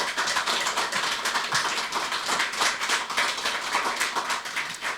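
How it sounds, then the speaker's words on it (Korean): An audience claps at a political party launch, a sustained round of brisk, even applause at moderate loudness with no voices over it. "큰 박수 부탁드립니다"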